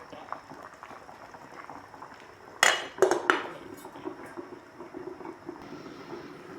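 A lid goes back onto a pot of simmering beef soup with cabbage and carrots, giving a couple of sharp metallic clatters in the middle against a steady low bubbling.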